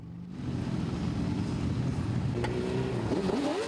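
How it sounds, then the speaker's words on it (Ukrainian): A steady roar of a slow column of motorcycles rolls past continuously through Uzhhorod streets, with a rising whine near the end as another motor revs. "Повільно, але гучно Ужгородом пересувається колона мотоциклістів."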